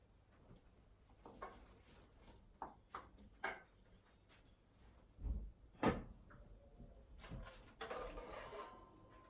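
An oven door is opened to take out small smoked haddock fillets, giving a scatter of soft knocks, a sharp clunk and light metallic handling in a home kitchen, with no talking.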